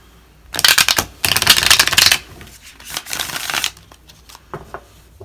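Crisp, rapid riffling of a tarot deck in two long bursts, followed by softer shuffling and tapping as the deck is squared, close and alone.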